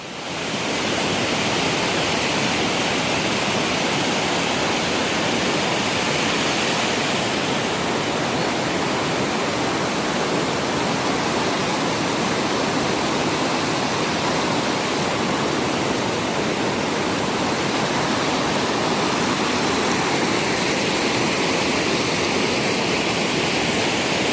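Loud, steady rush of a river, broadband roaring water that stays constant throughout with no voices.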